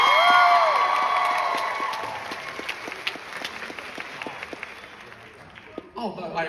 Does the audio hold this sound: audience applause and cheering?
yes